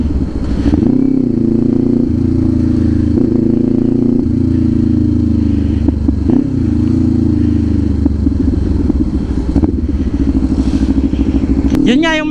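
Kawasaki Ninja 500 fitted with an SC Project open exhaust idles and is blipped, a loud, close, rumbling exhaust note with brief throttle rises.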